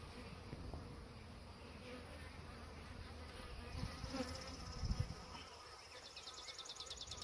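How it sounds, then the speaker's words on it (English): Honey bees in a crowded colony buzz steadily and close by as a beekeeper opens and inspects the hive in June, a soft continuous hum with a few louder passes. "plenty of bees as you can see in this colony"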